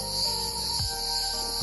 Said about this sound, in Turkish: Ağustos böcekleri, kuşlar, hayvanlar işte yanmayan ormanın içerisinde, yemyeşil bir alan içerisinde bulunuyorlar.